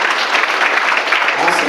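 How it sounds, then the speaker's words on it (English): Concert audience applauding steadily, a dense, even wash of many hands clapping close and loud throughout, with no speech over it. "Let's give them a round of applause too."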